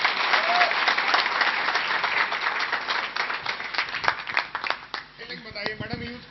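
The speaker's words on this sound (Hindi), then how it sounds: "तालियां हो जाए मैडम के लिए।" Audience at a Safe Shop product knowledge session applauds for a woman, steady group clapping that thins into scattered claps near the end, with voices speaking over it.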